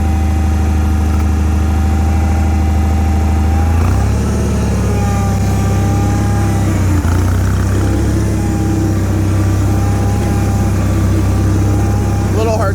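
A Bolens HT-23 garden tractor with a 23 HP Kohler 945cc engine being driven, a loud, close, continuous rumbling drone that shifts pitch slightly as it moves.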